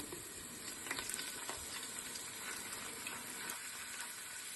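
Pasta sauce being added to a pan of fried onions, producing a soft continuous sizzle and bubbling with faint scattered clinks, fairly quiet throughout.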